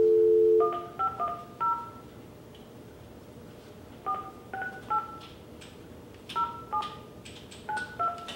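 Telephone keypad dialing, a short steady tone followed by three quick groups of paired touch-tone beeps separated by pauses, clear and moderately loud over faint background hiss.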